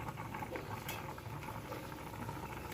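Small-fish curry with mixed winter vegetables simmering in a pot: faint, steady bubbling and soft popping throughout, with no voices.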